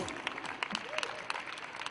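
Audience applause at a French live stage show, a short burst of dense clapping with crowd noise and a voice speaking over it.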